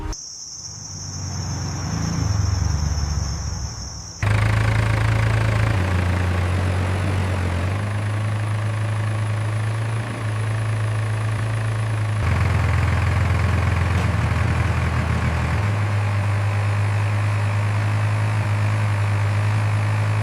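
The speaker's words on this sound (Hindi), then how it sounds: "सर, वो देखो, कोई ट्रैक्टर वाला आ रहा है।" A tractor engine approaches on an empty road. Crickets chirp at first, then a loud, steady low engine drone cuts in and continues, its pitch shifting slightly as it runs.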